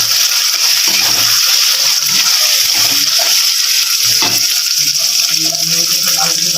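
Chicken ghugni fries loudly in a pan, a constant hiss and sizzle, while a spoon stirs ginger paste through it with scattered scraping knocks close at hand.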